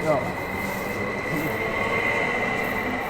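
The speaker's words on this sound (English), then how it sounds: "This is the airport train to Helsinki," Airport train to Helsinki running steadily, a continuous close rumble with a sustained high whine and a brief wheel squeal at the start, no talk.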